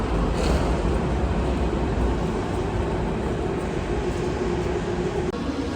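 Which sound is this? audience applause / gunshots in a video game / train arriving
train arriving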